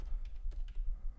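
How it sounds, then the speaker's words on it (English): Quick, light keystrokes on a computer keyboard in a chat room, a short irregular burst of close, fairly quiet clicks with no talking. "So what you just heard there was typing"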